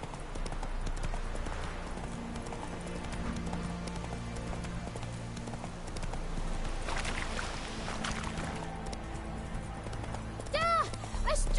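Horse hooves clip-clop steadily at a gallop through an open-world fantasy game as Geralt rides his horse Roach, with a constant low rumble of ambient music and wind underneath and a short rising whistle-like sound near the end.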